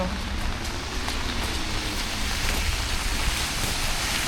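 Steady, dense hiss of heavy rain pouring down without a break during a storm, a loud wash of noise with no voices.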